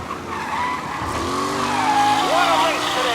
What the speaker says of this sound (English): Drivers are on the final lap.